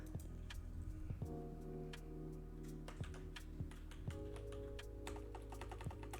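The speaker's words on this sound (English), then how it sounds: "Typing stuff." Steady clicking of keys on a computer keyboard, with quick irregular taps and occasional louder keystrokes over a faint constant background hum.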